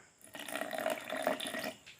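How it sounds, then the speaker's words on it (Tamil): Water is poured into a mixer grinder jar of banana juice, splashing and trickling steadily for about a second and a half, close by, with a liquid gurgling quality and no talking. "கொஞ்சம் தண்ணி ஊற்றிக்கலாம்"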